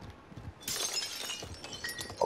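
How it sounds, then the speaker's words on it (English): Window glass shatters in the video game Call of Duty: Modern Warfare, a sudden bright crash of breaking glass followed by scattered tinkling shards and noisy game ambience. "Oh, smashing windows like that."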